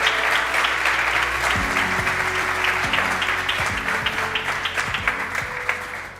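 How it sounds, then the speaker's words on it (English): Audience applause at a product presentation for a fast-charging infrastructure charger, a dense steady wash of many hands clapping that carries on for several seconds and thins slightly toward the end, with a few low voice fragments underneath. "a round of applause"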